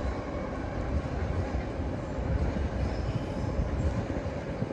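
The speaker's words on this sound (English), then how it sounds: "that was a long BNSF stack train" A long BNSF double-stack freight train rumbles past Richmond Amtrak Station in Richmond, California, producing a dense, steady roar of rolling wheels and rattling cars close by.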